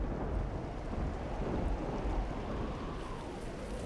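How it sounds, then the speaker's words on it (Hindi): Steady rain with low rumbling thunder during the first monsoon rain of the season, a dense continuous wash of sound that stays fairly close and even throughout, with no talking over it. "मुझे बारिश में भीगना है"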